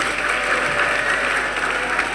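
A church congregation claps together, giving a dense, sustained wash of many hands heard close and fairly loud, with no voices.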